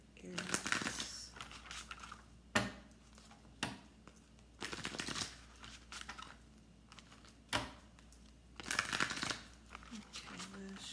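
Tarot cards riffled and shuffled in several quick bursts separated by short pauses, close and fairly quiet.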